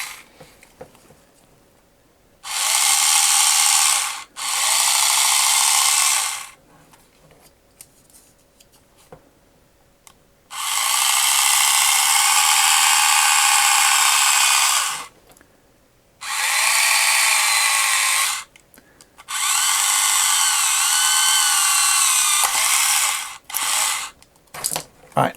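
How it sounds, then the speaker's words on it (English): A small hand drill boring a 2 mm pilot hole into a vintage Power Lords Ggripptogg toy gives loud, close whirring bursts of a few seconds each, separated by short quiet pauses. "So I'm going to drill the 2mm pilot hole, see how that goes"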